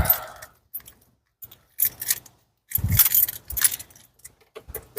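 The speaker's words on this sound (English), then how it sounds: "You take your keys." Car keys for a 2008 Subaru Forester jangle in bursts of bright metallic clinking, loud and close, with one heavier thump midway and quiet gaps between the shakes.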